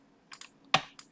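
A computer keyboard is being used during 3D modeling work with the Alt key held down, heard as a few light, close clicks spread over about a second in a quiet room.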